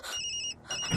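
A mobile phone ringtone in a film plays a bright electronic melody in two short bursts with a brief gap, clear and fairly close, with no voices.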